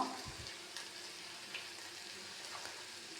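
Onion and tomato masala sautéing in a pan for chicken curry, with turmeric powder just added: a steady, soft, close sizzle that hisses evenly throughout, with no voices.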